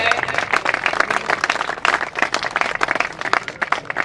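A crowd at the opening ceremony of a biocoal factory in Madhya Pradesh claps loudly, with sustained, slightly uneven applause and rapid individual hand strikes throughout.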